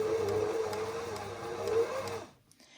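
A Baby Lock BL101 blind hemmer stitches across fabric with a steady, close mechanical whir and a faint rhythmic ticking, then stops abruptly near the end.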